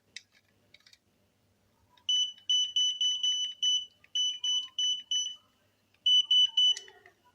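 A Godox TT600 speedlight flash with a firing fault gives repeated short, high electronic beeps in quick bursts when pressed instead of firing, close and clear, with a few faint clicks before it.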